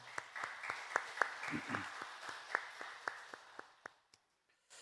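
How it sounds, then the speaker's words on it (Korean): A church congregation gives a round of applause, with sparse, uneven claps from a modest group that trail off into silence, and a brief murmur of voices partway through. "우리 하나님께 영광의 박수 올려드리시겠습니다."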